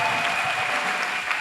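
Steady, dense applause from a church congregation clapping in acclamation, many hands at once keeping an even level throughout.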